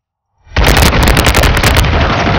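A single sharp, loud shot from a scoped gun in a video game, opening the clip with a sudden blast and trailing into a dense, crackling echo for about two seconds.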